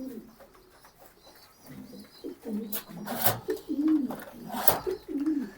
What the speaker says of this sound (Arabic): اهو حمام عادي لابس الازرق والاخضر، حمام عاديه جدا اهي.